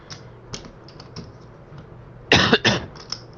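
A short burst of two or three close, harsh coughs, preceded by faint scattered taps and small noises in a quiet room.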